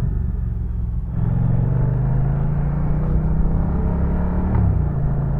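A Moto Guzzi V100 Mandello motorcycle engine hums steadily while riding, a low continuous drone that rises slightly in pitch over a few seconds, with wind rush around it and no talk.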